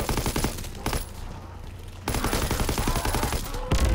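Rapid automatic weapon fire in the World War II zombies mode of Call of Duty, sustained bursts of dense shots with a short pause in the middle, loud and close.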